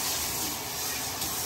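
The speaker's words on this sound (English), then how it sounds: "So now, wash out my pan." Tap water runs steadily into a sink while a pan is washed in a home kitchen, a faint continuous rush with no voices.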